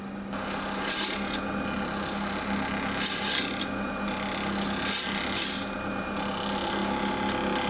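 A wood-turning scraper levels a spinning wooden base on a lathe, giving a continuous rough rasping scrape with a low motor hum beneath and a few louder bursts as the tool bites, heard close up.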